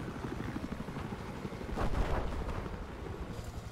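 A helicopter in Battlefield 4 multiplayer drones with a loud, close, rapid rotor thump throughout, swelling briefly in the middle with a rushing burst like an explosion or gunfire.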